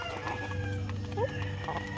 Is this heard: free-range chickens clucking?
yes